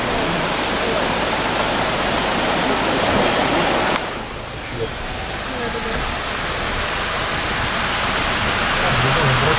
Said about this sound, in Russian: Ну, едем вброд через ручей.